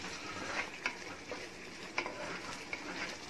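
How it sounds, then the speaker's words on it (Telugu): Tomato puree cooking in a pot for dal makhani, a faint bubbling sizzle with scattered small pops and light clinks of stirring. "సో ఇప్పుడు టొమాటో ప్యూరీ కూడా మంచిగా బాయిల్ అవుతుంది, కుక్ అవుతుంది"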